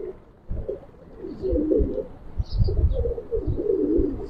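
Pigeons in a loft of old-breed Giribaz and Pagla Khaki birds coo repeatedly in low, throaty pulses, several birds overlapping close by with a soft chirp or two and no voices.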